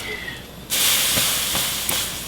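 Water dropped into a hot, dry pan heated on high with no oil gives a sudden loud hiss of evaporating steam that holds steady for over a second, with faint clicks beneath it.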